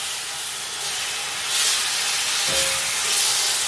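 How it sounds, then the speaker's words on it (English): Breakfast food sizzles in a frying pan with a steady, broadband hiss that swells partway through, close and unbroken, with no one speaking. "Listen to that sizzle."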